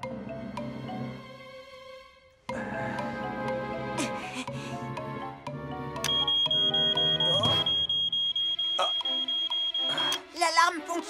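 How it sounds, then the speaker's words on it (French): A smoke alarm in a children's firefighting cartoon sounds a steady, piercing high electronic tone lasting several seconds, mixed over a busy background music score. "L'alarme fonctionne très bien, Tonton Sam."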